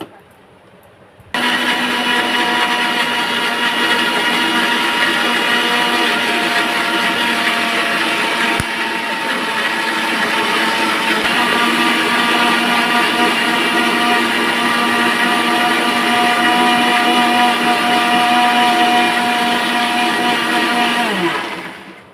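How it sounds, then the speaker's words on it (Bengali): A kitchen mixer grinder whirs steadily while blending batter, switching on abruptly, running loud and continuous for about twenty seconds, then winding down and stopping. "আমি মিক্সচারে একবার ঘুরিয়ে নেব।"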